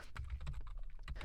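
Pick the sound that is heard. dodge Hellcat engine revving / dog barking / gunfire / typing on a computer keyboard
typing on a computer keyboard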